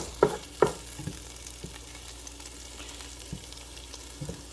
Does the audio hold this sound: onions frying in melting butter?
yes